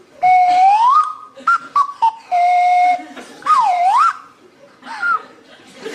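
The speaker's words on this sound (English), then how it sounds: "a selection of fully renewable wind and calorie-powered woodland whistles to attract my attention" Several shrill whistles blown in turn, some held steady, others sliding up and down in pitch, with short pauses between blasts.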